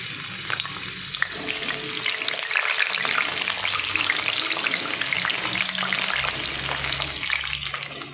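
Potatoes fry in a pan, a loud, continuous crackling sizzle that stays close and steady throughout, with a faint splash-like wash beneath it.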